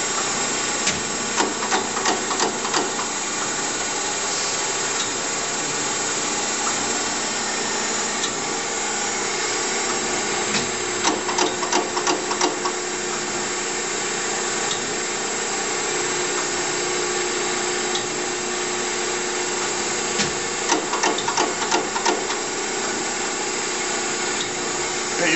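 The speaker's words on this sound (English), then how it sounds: "Set up on an automatic surface grind cycle." A Chevalier 12x24 fully automatic surface grinder runs its grinding cycle, a continuous mechanical drone with periodic clustered ticks and clicks as the table traverses, steady and fairly loud throughout.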